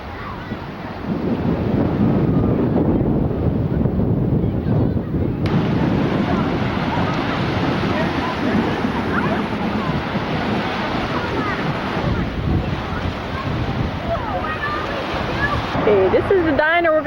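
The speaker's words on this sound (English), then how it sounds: "This is the beach." Steady surf and gusting wind roar at the beach on Presque Isle, a continuous loud wash of breaking lake waves with heavy wind buffeting the microphone throughout.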